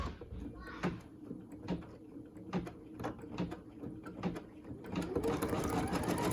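An embroidery machine sews a placement stitch on a cotton in-the-hoop zipper purse, giving close, rhythmic needle taps in a steady run that swells into a denser, louder buzz near the end.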